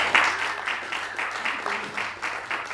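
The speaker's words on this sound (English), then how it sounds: "Round of applause for Reuben so far." An audience applauds at a live experimental sound performance event, steady dense clapping at moderate distance, filling the room without a break.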